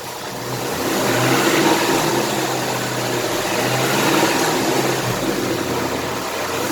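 A 2018 Ford Mustang GT V8 idles steadily with a valve connector unplugged, a loud, close, even engine drone that swells slightly and then holds for several seconds without talk.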